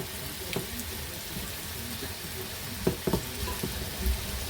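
Chicken escalopes fry in a pan with a constant mid-level sizzle and crackle, broken by a few sharp taps and scrapes of a utensil.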